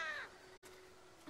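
In a Walking Dead video game, a crow gives one brief, faint caw at the start, followed by quiet outdoor ambience.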